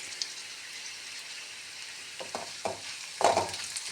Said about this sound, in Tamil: ஒரு கொத்து கருவேப்பிலையும் நாலு வரமிளகாயும் சேர்த்து வதக்கும்